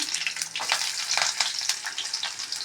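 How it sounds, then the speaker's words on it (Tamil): Shallots and garlic cloves sautéing in oil with mustard seeds and fenugreek in a pan: a close, busy crackle and hiss with small popping bursts, and no speech. "சின்ன வெங்காயம் ஒரு பத்து பூண்டு ஒரு பத்து பல்லு இதனால் நல்லா வதக்கிக்கலாம்"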